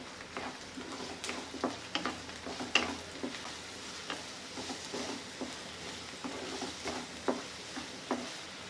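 Onions sauté gently in a pan for paneer bhurji, a soft steady sizzle broken by regular spatula scrapes and light taps, fairly quiet and close.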